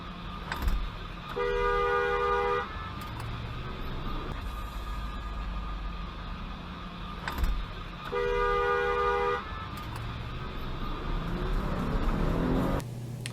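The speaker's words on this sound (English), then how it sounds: "These parking sensors were really annoying though." Parking sensors in a 2020 Dodge Durango sounding two bursts of rapid, steady electronic beeps, each lasting about two seconds, heard inside the cabin over engine and road rumble.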